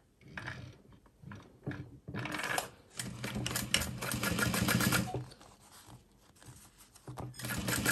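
A sewing machine top stitching a handbag runs in uneven bursts, starting and stopping several times before a longer steady run, fairly quiet and close.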